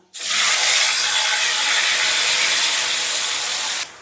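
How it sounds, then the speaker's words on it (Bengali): Ground ginger, garlic and green chili paste hits hot oil in a kadai with a sudden loud, steady sizzle that hisses evenly for several seconds before cutting off abruptly. "ফোড়নটা একটু নাড়াচাড়া করে দিয়ে দিচ্ছি আমি বেটে রাখা আদা রসুন আর কাঁচা লঙ্কা"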